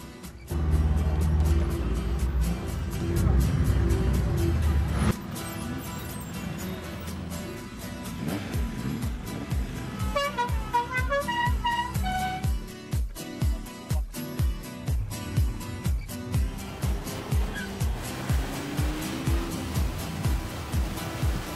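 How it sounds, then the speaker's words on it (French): Classic Citroën Traction and Mercedes cars warm up their engines on Réunion, a loud steady idle and revving up close, then a rhythmic engine chug with repeated pulses alongside. "On fait chauffer la traction et la Mercedes aussi"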